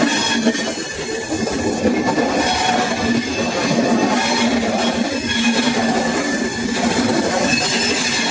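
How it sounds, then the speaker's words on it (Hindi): The Sabarmati Express 12548 pulling away from a station on the Ajmer to Agra Cantt route, heard from inside a crowded coach as a loud continuous rumble with rattling wheels and a faint metallic squeal, no talking. "अपनी ट्रेन स्टार्ट हो गई है"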